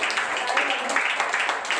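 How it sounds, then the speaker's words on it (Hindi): Congregation applauding during a church prophecy service, a steady wash of many hands clapping together at moderate loudness for the whole stretch, with no voices on top. "हाँ, इनके लिए ताली बजाए।"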